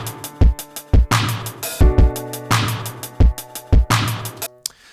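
A hip-hop drum loop plays with piano, punchy kicks and snares in a steady groove over sustained chords, loud and upfront with no voices.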